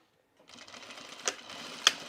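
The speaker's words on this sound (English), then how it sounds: "And then we're going to sew it and just leave that unfolded." A sewing machine stitches denim for a pair of jeans, starting after a short silence and whirring steadily, with two sharp clicks punctuating the run.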